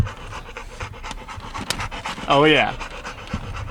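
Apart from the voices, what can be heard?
dog panting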